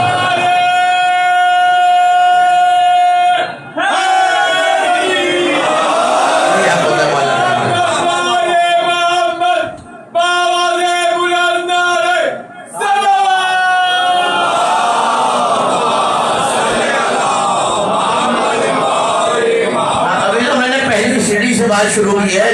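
A large congregation at a majlis chants a religious slogan in unison, loud sustained voiced cries repeated several times with brief pauses between rounds, filling the hall.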